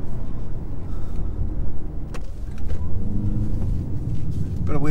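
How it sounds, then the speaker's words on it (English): A Lexus UX250h compact SUV accelerating hard, with road and engine roar, tyre scrabble from brief wheel spin and a short squeal near the end, under a fairly loud cabin hum. "Bit of wheel spin."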